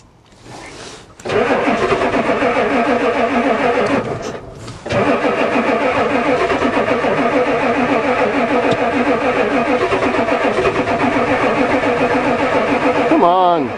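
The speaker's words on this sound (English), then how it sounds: "It's cranking good." A Ford diesel truck engine cranks continuously for a long stretch, a loud, steady rhythmic churning that stops briefly and starts again. People talk over it.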